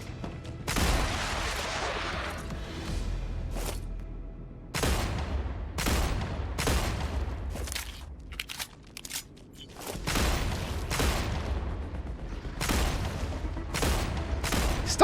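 The player's gun fires in the game StarRupture as loud, sharp blasts, sometimes single and sometimes in short rapid clusters, spaced irregularly with quieter gaps between them.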